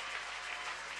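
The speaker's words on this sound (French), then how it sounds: "Que les vrais adorateurs applaudissent très fort pour le Seigneur." A church congregation claps loudly for the Lord, a dense, continuous wash of applause that fills the room evenly for about a second.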